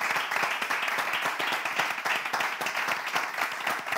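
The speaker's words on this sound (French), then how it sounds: "On va l'applaudir." Audience applauding Miss Sandra at her final session, dense steady clapping from many hands throughout, fairly close and continuous.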